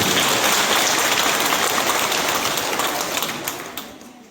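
Sustained, dense applause from the audience at a women's forest producer company annual general meeting in the Pangi Valley. It stays loud and steady without speech, then thins out toward the end.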